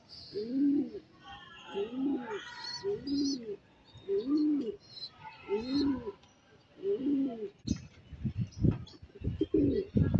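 Domestic pigeons coo in a steady run of about six low, rounded calls, with faint chirps and twittering from other birds overhead; toward the end the cooing breaks up under closer rustling and a few soft bumps.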